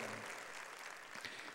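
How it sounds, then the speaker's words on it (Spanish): A church congregation applauds together, a dense, steady burst of clapping that fills the short moment without a break. "Esto merece un fuerte aplauso para el Señor"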